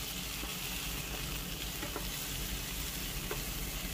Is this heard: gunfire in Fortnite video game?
no